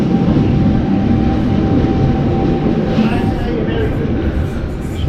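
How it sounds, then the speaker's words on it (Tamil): A train rumbles steadily past at a heritage-style station in Australia's Blue Mountains near Sydney, a loud continuous roar with a faint high whine and no clear talk. "ட்ரெயின் போயிடுச்சு."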